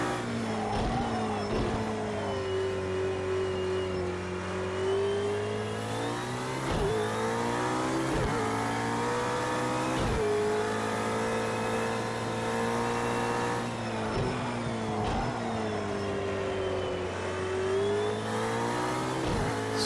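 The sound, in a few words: road car engine revving in Project CARS 2 video game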